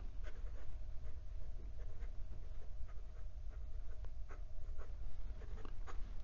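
Wordsworth and Black luxury bamboo wood fountain pen with a medium steel nib writing on Clairefontaine 90 gsm paper, giving soft continuous nib scratching with light strokes over a steady low background hum, close up and without talking.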